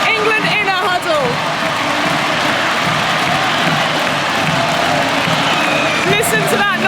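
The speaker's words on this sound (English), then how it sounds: "England win the World Cup in front of a packed house at Lords, who go nuts in the crowd." A packed crowd at Lord's roars and cheers steadily as England's women win the 2017 Cricket World Cup on home soil, a dense, loud wall of noise with whoops, over which a commentator talks.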